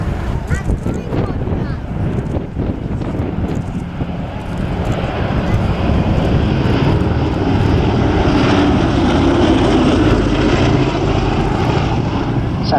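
The B-17 bomber Sally B flies past at the Cosford air show, a loud, sustained multi-engine propeller drone with wind buffeting the microphone, rising slightly as it passes, with voices mixed underneath.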